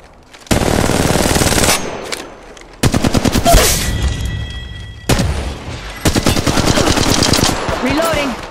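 Long bursts of rapid automatic gunfire in the mobile battle royale Apex Legends Mobile, three or four loud, close sustained volleys separated by short pauses.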